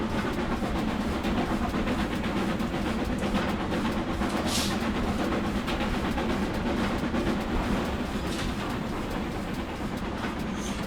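King Class steam locomotive in a train simulator, running along a 1950s Riviera Line route with a steady rumbling roll of wheels on rails and a faint rhythmic clatter, continuous and fairly loud throughout.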